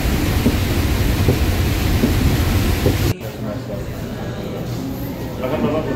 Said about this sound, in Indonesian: Madinah hujan besar.